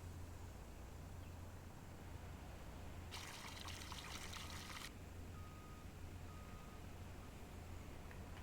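Water pouring out of a truck in Farming Simulator 19, a faint steady trickle with a brief brighter gushing burst partway through, backed by a low engine hum and occasional thin electronic tones.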